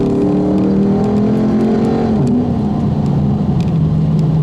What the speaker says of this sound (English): I'll leave you with a little acceleration after I get around this corner.